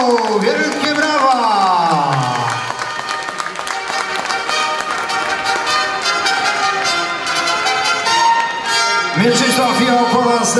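An audience at the NAC Mława 2016 Polish bodybuilding championship claps and cheers for the winning bodybuilder, sustained dense applause from a crowd, with an announcer's amplified voice and music over it.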